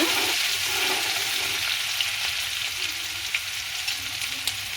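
Ginger-garlic paste sizzles in a hot pan while cooking a dried anchovy kottu dish, a steady, close broadband frying hiss with a few faint stirring ticks and no talk.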